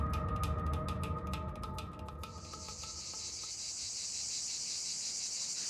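Cicadas sing in the southern French countryside near Nîmes, a loud, continuous high-pitched buzz that pulses rapidly at first and then settles into a steady, dense drone with no voices.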